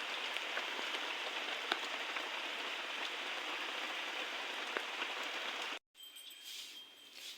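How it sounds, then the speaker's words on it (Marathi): Heavy rain pours down in a dense, steady hiss with scattered drop impacts, then cuts off briefly before lighter rain noise resumes. "पाऊस पाऊस आणि इकडे बघा किती पाणी साचले"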